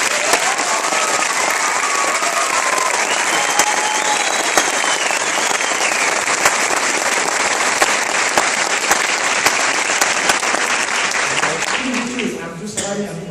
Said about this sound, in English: Please give these exceptional soldiers a round of applause.